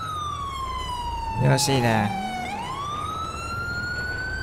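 Police car sirens in GTA 5 wailing with a falling then rising pitch, loud and continuous, with a brief burst of engine or crash noise midway and someone speaking briefly over it.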